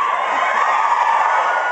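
A studio audience at a True Blood cast interview screams and cheers continuously, a dense, loud wall of excited high-pitched voices with no pauses.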